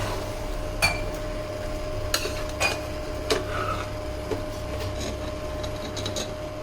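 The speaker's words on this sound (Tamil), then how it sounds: "இப்போ எல்லாத்தையும் நல்லா மிக்ஸ் பண்ணிக்கோங்க" Soya paneer biryani ingredients with cashews being mixed in a metal pot, giving scattered clinks and scrapes of a spoon against the pot over a steady background hum.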